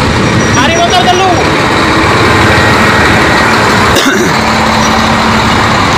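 A truck idles with a steady low rumble in a long traffic jam on the road between Malang and Lumajang via Piket Nol, with continuous engine drone, passing traffic noise and a brief horn-like tone.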